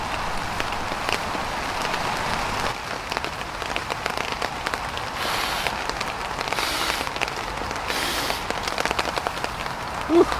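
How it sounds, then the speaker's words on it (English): Steady rain patters on a camping tarp in woodland, a dense even hiss of drops that holds loud and constant throughout with no voices over it. "Here comes the rain."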